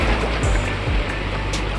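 A river in Rishikesh flows over rocks with a steady, loud, close rushing wash that fills the whole clip without pause.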